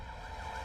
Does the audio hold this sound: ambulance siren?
yes